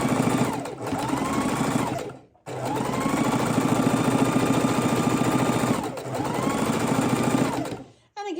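A sewing machine stitches a felt Easter egg in three loud, steady runs, each starting and stopping with a short pause between, motor whirring at a rapid even rhythm close by.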